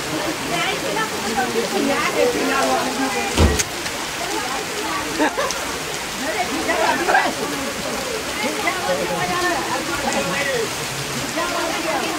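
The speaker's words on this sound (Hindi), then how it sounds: "बहुत जोर वर्षा होची" Heavy monsoon rain pours down in Odisha, a dense, continuous hiss and patter of water striking surfaces, loud and steady with one brief sharp knock partway through.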